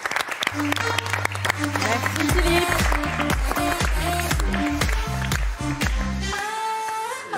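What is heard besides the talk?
studio audience applause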